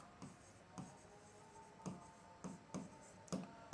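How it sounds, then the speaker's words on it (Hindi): A pen scratching across paper as a sentence is written by hand, with short strokes and taps in an irregular rhythm, quiet and close, and no speech. "जैसे मैं एक सेंटेंस लिखता हूं"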